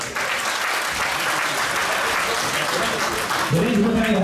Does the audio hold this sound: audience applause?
yes